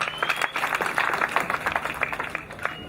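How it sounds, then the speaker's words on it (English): The audience at a university graduation ceremony gives a round of applause, a sustained burst of many hands clapping fairly close, with a faint tone humming beneath. "let's give him a round of applause."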